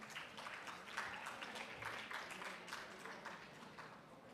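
Clapping from a university convocation audience at PES University's RR Campus, a steady crowd patter of moderate loudness sustained through the whole stretch with no voices on top.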